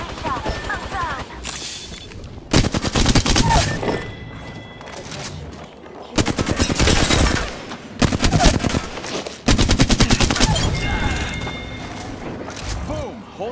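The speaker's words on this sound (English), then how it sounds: "Shots fired, and they're hitting me." Heavy bursts of video game gunfire strike the player, loud rapid volleys arriving in several separate clusters with quieter gaps between them, and a voice comes through now and then.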